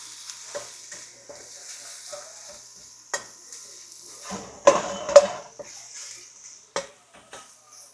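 Ribeye fried rice fries in a greased pan with a steady soft sizzle, and a few sharp scrapes and clinks from stirring punctuate it near the middle and end.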